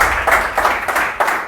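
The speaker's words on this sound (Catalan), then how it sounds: "Aplaudiment per ells, fortíssim!" A studio audience at a Catalan board-game show claps loudly for its guests in a brief, dense burst of applause.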